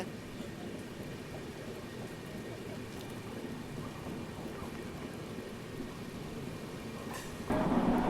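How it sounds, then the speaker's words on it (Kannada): Continuous rain hisses steadily, a dense patter that suddenly grows louder and closer near the end. "ಕಂಟಿನ್ಯೂಸ್ ಆಗಿ 12 ತಾಸದಿಂದ ಇಲ್ಲಿ ಮಳೆ ಆಗತೈತ್ರಿ"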